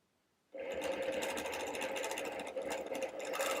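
Quilting machine stitching swirl patterns into a quilt border, starting abruptly after a quiet moment and then running as a steady, close, rapid mechanical whir with fast rhythmic needle chatter.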